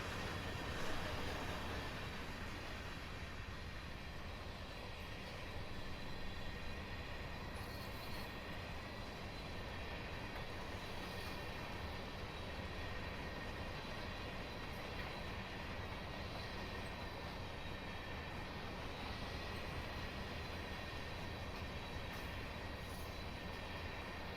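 An EMD ES44 diesel locomotive passes in Cheyenne, a steady loud rumble of engine and rolling cars lasting throughout, with no talking.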